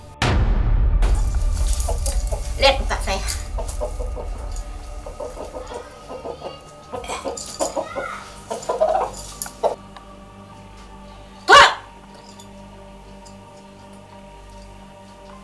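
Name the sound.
chicken clucking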